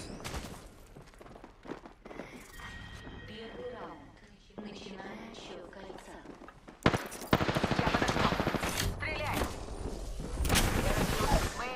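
Gunfire in the video game Apex Legends on PS5: bursts of rapid automatic shots and scattered single cracks, growing louder and denser toward the end, mixed with footsteps and other game sounds while players talk over it.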